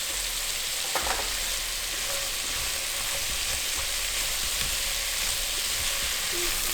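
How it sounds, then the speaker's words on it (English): Onions sizzle steadily in melted butter as they begin to caramelize, a dense, even frying hiss close by with a few faint stirring clicks and no talk. "To the butter, I'm just going to add all of my onions and kind of caramelize them a little bit."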